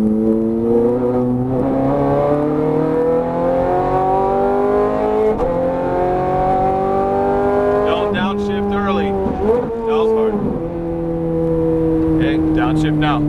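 A Ferrari F430 Scuderia lapping Las Vegas Speedway, its engine droning loud and steady through rising and falling revs as it accelerates and shifts, with a brief tire squeal and a coach talking over it.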